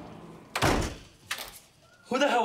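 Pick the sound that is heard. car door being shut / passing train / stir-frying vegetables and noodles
car door being shut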